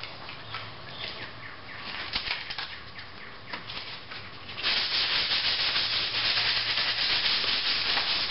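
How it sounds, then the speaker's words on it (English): Steady rasping of fine-grit sandpaper rubbed back and forth over a wooden guitar rack, growing louder and more continuous partway through, with no talking. "I'm going to go ahead and sand the surface"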